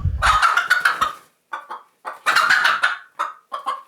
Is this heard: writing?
no